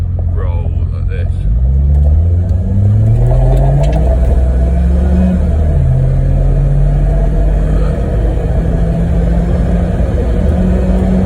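A Volvo 945 Turbo accelerates from a roll on a test drive, its engine note climbing in pitch through successive gear changes, loud in-cabin rumble with a brief voice early on.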